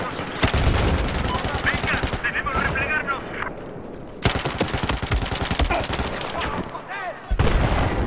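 Rapid automatic gunfire in the Battlefield Hardline video game comes in loud sustained bursts with brief gaps, and a voice speaks faintly between shots.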